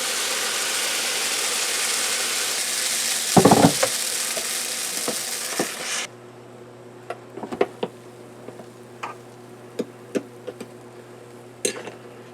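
Steady loud sizzling of brown rice and oat batter cooking in a hot waffle maker, then it cuts to a quieter hum with scattered clicks and taps.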